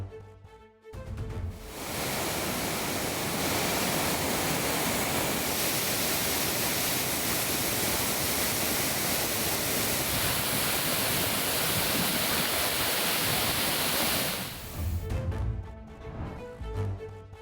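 Flooding Courtallam waterfalls after heavy rain in the Western Ghats, a loud, dense, steady roar of torrential cascading water filling the scene for most of the stretch before cutting away.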